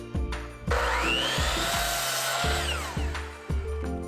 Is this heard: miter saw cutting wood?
yes